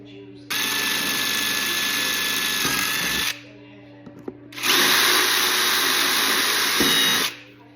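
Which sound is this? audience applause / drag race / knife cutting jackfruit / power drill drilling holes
power drill drilling holes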